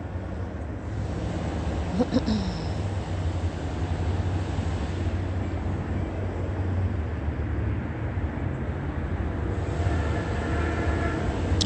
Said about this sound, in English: Metrolink going eastbound.